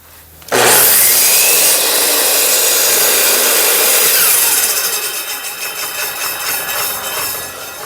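A saw bites into wood after a quiet start and cuts with a loud, continuous rasp that later turns into rhythmic rough strokes, close and dominant with no voices.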